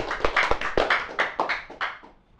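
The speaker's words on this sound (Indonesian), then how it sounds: "Tepuk tangan untuk Ngah Anto kita." Scattered, uneven clapping from a small audience greets guest Ngah Anto, a handful of sharp claps that thin out and fade within a couple of seconds.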